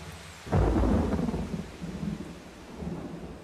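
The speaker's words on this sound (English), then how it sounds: "The storm unleashed the full force of its power, with driving rain and great peals of thunder." Thunderstorm with driving rain: a heavy thunder crack bursts in, then rolls and rumbles away in long waves beneath a constant hiss of falling rain.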